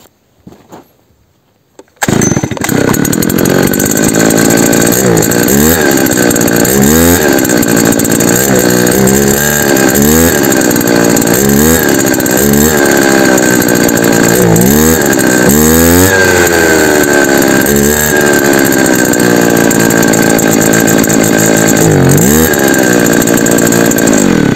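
A Stihl FS brushcutter engine starts after a brief quiet moment and roars loud and close, revving up and down repeatedly while its carburetor is being adjusted and it runs short of fuel.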